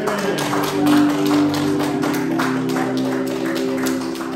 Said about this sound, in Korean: 주님, 그 부활의 주님께 영광의 박수 올리겠습니다.